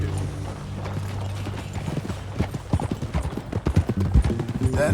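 Quick, loud hoofbeats of riding horses in Red Dead Redemption 2 clatter close by, building in intensity over a low droning background.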